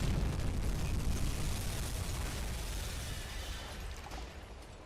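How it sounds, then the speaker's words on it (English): A T3 torpedo hit explosion in the submarine game UBOAT, heard as a heavy, rumbling low boom that swells at once and slowly fades away with nothing else over it. "The T3 torpedo hit"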